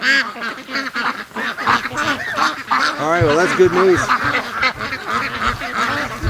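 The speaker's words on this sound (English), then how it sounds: "there's over 40 ducks down there right now" Dozens of ducks on a swamp pond quack and honk in a dense, overlapping chorus, close and loud, while someone speaks over them.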